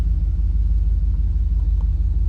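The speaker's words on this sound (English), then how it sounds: "We are backing out of the shop now." A 1979 barn-find Camaro backs out of a shop, its engine giving a loud, steady low rumble that pulses evenly and stays close throughout.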